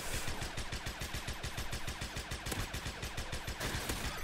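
Rapid gunfire in a shooter video game, a thirty-round burst fired from the hip, rattles on as one dense, steady stream of shots from start to finish.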